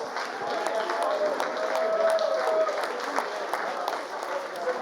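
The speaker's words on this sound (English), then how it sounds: "Let's have a massive round of applause for both these fighters in the cage, please." A crowd applauds steadily for two fighters after a TKO win in an MMA cage bout, dense clapping sustained throughout with a few whistles or cheers rising over it.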